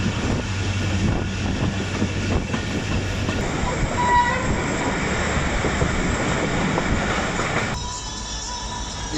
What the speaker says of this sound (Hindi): ट्रेन टंडू मस्ती खान और खैरपुर के ब्लॉक सेक्शन से पास हो रही है